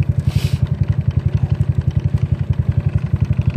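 A ZNEN ZN150T-9 scooter engine runs at a steady idle, a loud, close, rhythmic low-pitched pulsing that continues evenly throughout.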